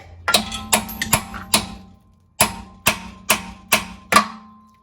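Sharp hammer blows ring out close by while fitting a power steering cooler to a Jeep: a quick group of four, a short pause, then five more evenly spaced strikes, each with a metallic ring.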